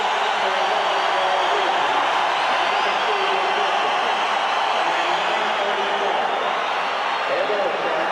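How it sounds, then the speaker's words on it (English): Hockey crowd at Maple Leaf Gardens during a 6-5 NHL game between Boston and Toronto, a steady broad roar of cheering filling the arena, loud and continuous throughout. "listen to the crowd here at Maple Leaf Gardens"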